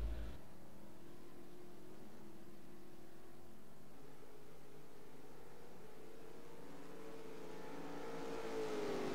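A Nissan race car turning onto the finish straight, its engine a faint, steady drone at a distance that swells and rises in pitch near the end as it draws closer.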